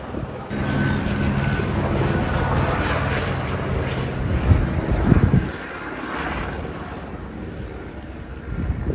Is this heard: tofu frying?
no